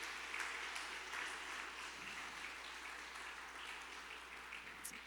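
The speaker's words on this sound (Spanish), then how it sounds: "dale un fuerte aplauso al Espíritu Santo que está con nosotros" Church congregation applauding during a Spanish-language worship service, a steady wash of clapping that holds evenly throughout at moderate level with no voices over it.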